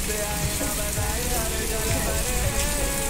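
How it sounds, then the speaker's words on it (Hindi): Heavy rain pours down in Jammu, a dense, steady hiss and patter that stays loud and continuous throughout with no break. "कितनी तेज बारिश हो रही है यहाँ पे।"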